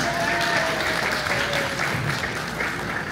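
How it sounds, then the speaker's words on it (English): Crowd applause for workers at a Philippine national convention, a loud continuous wash of clapping with a faint tonal hum beneath. "a round of applause to them."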